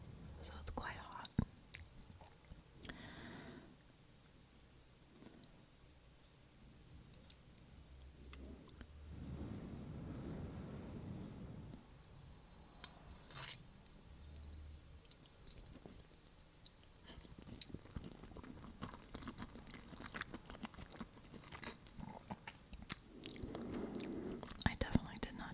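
Wet, close chewing of hot reheated spaghetti and meatballs eaten with a fork, soft mouth sounds and quiet bites continuing under low whispering throughout.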